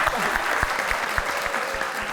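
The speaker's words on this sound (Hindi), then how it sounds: "भाई पहले तो बहुत सारी तालियां हो जाएं वीना जी के लिए" A studio audience at a talk show breaks into applause, a dense, steady wash of clapping sustained over a couple of seconds at close range.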